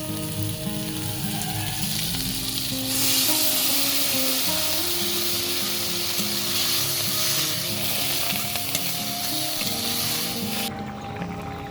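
Chicken ghugni masala sizzles and fries steadily in a pan for Bengali cooking, a loud continuous crackle with stirring throughout and no talking.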